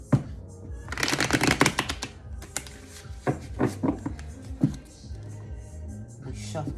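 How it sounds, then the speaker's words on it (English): Cards being shuffled close up in quick riffling bursts, with brief pauses and soft handling noises between them. "We shuffled real good."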